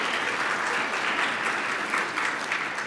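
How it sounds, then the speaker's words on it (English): A dense, steady round of applause fills a hall at the 33rd MNO Annual General Assembly, many hands clapping at an even, close level throughout. "I think a huge round of applause for Brian"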